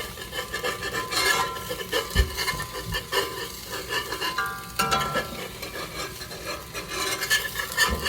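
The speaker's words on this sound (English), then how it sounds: "Flipping my eggs here." Eggs being flipped in a pan at breakfast give soft scraping and sizzling sounds, faint and close, with a few light clatters of the utensil against the pan.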